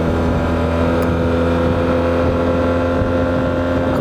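A Yamaha TMAX 560 scooter engine drones steadily in a loud, constant hum with wind buffeting the microphone, no one speaking.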